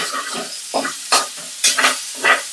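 Onion, garlic and chili sautéing in a hot pan, sharp sizzling bursts as a spatula stirs and scrapes several times in uneven rhythm, close and loud.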